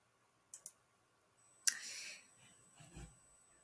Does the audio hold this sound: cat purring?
no